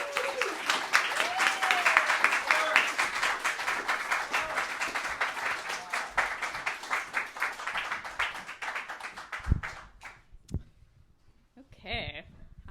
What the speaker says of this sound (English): I wanted to give her first a very big round of applause for putting this thing together